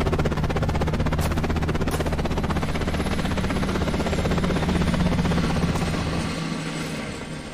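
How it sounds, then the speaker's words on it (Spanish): A video game helicopter in a Minecraft zombie survival server gives off a loud, continuous rotor chop and engine drone that holds steady, then fades slightly at the end. "Allí está el helicóptero."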